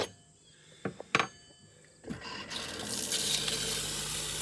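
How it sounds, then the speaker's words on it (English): Camper sink filling from a newly plumbed water pump: a few clicks and knocks, then a steady broadband rush of running water that builds and continues to the end. "Water pump on."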